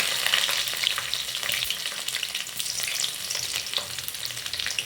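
Fennel and cumin seeds spluttering in hot oil with garlic as a paruppu urundai kulambu base gets started, a continuous close, bright crackle and sizzle with stirring throughout and no voices.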